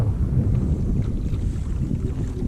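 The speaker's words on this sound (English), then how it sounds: "A little bit of wind out here. Sorry about the noise." Strong wind buffets the microphone out on open water from a kayak, a constant low rumble with the faint wash of waves beneath it.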